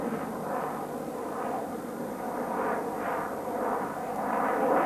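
A Sukhoi Su-27-derived fighter jet with canard foreplanes roars past at an air show, a loud, steady, rushing engine noise that swells and pulses in waves.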